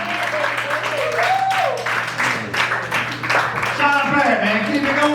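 A comedy club audience applauds and cheers at a comedy show, steady crowd clapping throughout while a host talks over it on the microphone.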